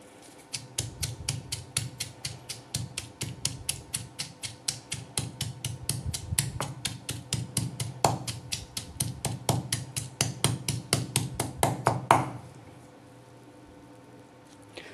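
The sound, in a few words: pounding onion by hand for green chutney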